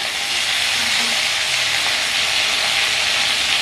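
Turmeric powder sizzles in well-heated oil in a pan, a loud, steady, broadband frying hiss held close throughout without pause.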